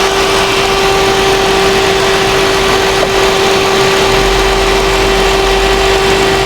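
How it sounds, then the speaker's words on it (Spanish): A Peugeot 208 PureTech engine with a misfire idles steadily and close by, a constant mechanical drone with a strong steady hum, running alone without talk. "En el momento que se elevan los valores, ahí es donde tenemos el rateo del motor"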